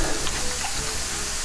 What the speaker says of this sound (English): you're just gonna stir in the cornstarch.